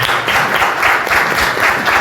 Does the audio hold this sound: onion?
no